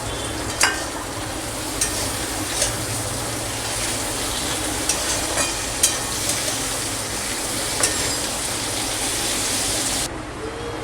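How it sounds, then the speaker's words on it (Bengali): Capsicum fries in a pan for chicken kosha and fried rice, giving a steady, close hiss of sizzling. Sharp crackles and pops break through now and then, and the sound cuts off abruptly near the end. No one speaks. "এবার আমি ক্যাপসিকামটা দিয়ে আরেকটু ভেজে নেব।"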